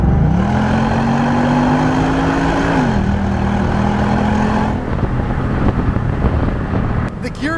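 A Ford Mustang GT with a 6-speed automatic drives along, its engine note climbing then stepping down through a quick gearshift, followed by a steadier cruising rumble from inside the cabin.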